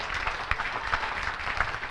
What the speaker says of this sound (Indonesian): Ayo, yang percaya beri tepuk tangan yang meriah